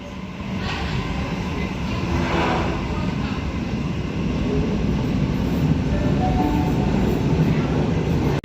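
A Sydney City Circle train moves through Central station, a broad, steady rumble growing slightly louder over several seconds before ending suddenly.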